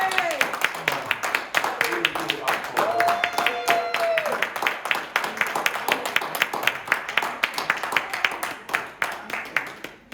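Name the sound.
audience applause for theatre cast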